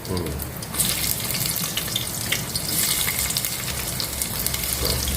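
Onions sizzling in oil seasoned with shahjeera for a biryani, a loud, continuous hiss that flares up near the start and holds steady with faint crackles throughout.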